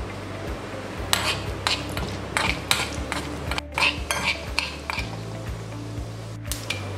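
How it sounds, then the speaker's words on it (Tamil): Mustard seeds and urad dal splutter in hot oil in a kadai for coconut chutney: irregular sharp pops and crackles burst over a steady sizzle, with background music running underneath. "கடுகு பொரிஞ்சிருச்சு."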